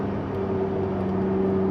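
A McLaren 675LT with a 3.8-litre twin-turbo engine driving along a sweeping road bend, giving a steady droning engine hum with a strong sustained tone, close and continuous without any talk.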